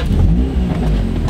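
A car engine blips and revs during a heel-toe downshift, a loud, continuous rising and falling growl that fills the whole short moment with no talking.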